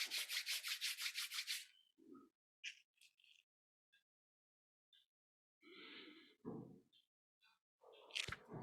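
Palms rubbed briskly together at the start as a rapid, rhythmic run of close brushing strokes, followed by a few soft scattered sounds and short breathy noises; no speech.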